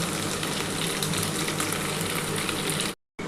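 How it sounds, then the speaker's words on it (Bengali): Potatoes and long beans frying in hot oil in a Bengali home kitchen, a steady, dense sizzle that carries on unbroken for about three seconds before a sudden brief dropout near the end. "এই তেলের মধ্যে আমি আলু আর বরবটিটা দিয়ে দেবো"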